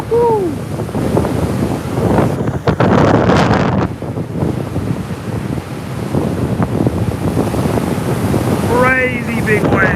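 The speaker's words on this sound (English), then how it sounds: "Crazy big waves." Strong wind buffets the microphone over big, crashing sea waves on a North Norfolk beach, a loud continuous roar with surges, while people shout and talk over it.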